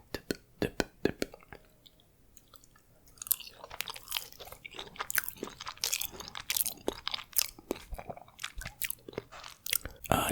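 Close, quiet crunching and biting of fries dipped in Italian ketchup, with a few sharp chews at first, then a denser run of wet, crackly mastication and soft whispering.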